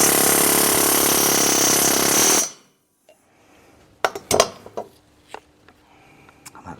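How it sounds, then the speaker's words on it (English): A loud, continuous rapid hammering rattles for a couple of seconds as new valve guides are driven into a cylinder head, stopping abruptly, followed by a few sharp metallic clanks and knocks. "You'll hear the hammer go louder."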